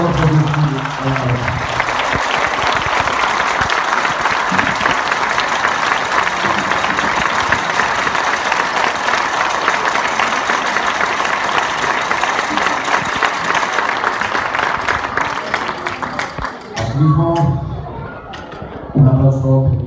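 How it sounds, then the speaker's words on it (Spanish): Loud, sustained applause from a crowd at a children's jota festival at Christmas, rolling on for a long stretch before fading, with voices speaking over it near the end. "Para nuestra rondalla, sin la cual canto y baile no podríamos hacer nada, un aplauso muy fuerte, por favor."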